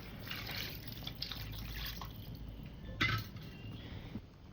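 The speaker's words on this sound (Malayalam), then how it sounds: "ആവശ്യത്തിന് വെള്ളം ഒഴിച്ചു കൊടുക്കാം മക്കളെ." Water poured into a pot of crabs to be boiled, a soft, faint trickling and splashing with a small clunk partway through, no talk.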